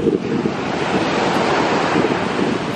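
Ocean waves surge and wash continuously onto a beach at Los Cabos, a loud, steady roar of surf with wind buffeting the microphone and no speech.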